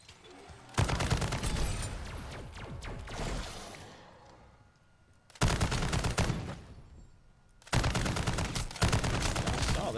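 Machine gun fire in Call of Duty MW3 Zombies comes in loud sustained bursts, with a first long burst, a quieter pause and then two more heavy bursts close up.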